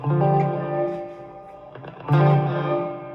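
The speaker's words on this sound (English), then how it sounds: "it's this plugin I found, and it's like this crazy delay and reverb" Sustained electric guitar notes drenched in delay and reverb, swelling twice with washy, echoing tails, loud and close, no speech.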